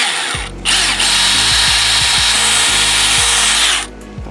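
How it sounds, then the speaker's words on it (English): A power drill bores into wood to start a hole for mounting string lights, its motor whining loudly and steadily with shifting pitch as it bites, then cutting off, close and with no talking. "Take your drill."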